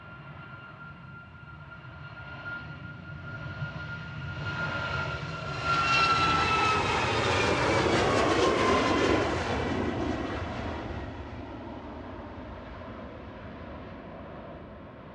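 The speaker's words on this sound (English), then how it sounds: "That was flight 4076 departing, a 737 MAX 8 200 that's just under a year old." A Ryanair Boeing 737 MAX 8-200 jet departs Manchester Airport, its engine roar swelling from a distant whine to a loud, broad rush overhead, then slowly fading away.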